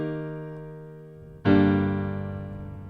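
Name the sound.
piano chords played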